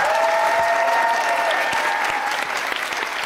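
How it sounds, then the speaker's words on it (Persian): A studio audience on an Iranian TV comedy show applauds for Rambod Javan, a dense, steady wash of many hands clapping that holds evenly for several seconds with no talk over it. "آقای رامبد جوان لایق یک تشویق حداقل"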